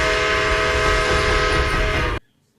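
An MTH RailKing 3-rail O-gauge Southern Pacific Daylight GS-2 model locomotive runs with a loud steady mechanical whir and hum, then cuts off abruptly into silence.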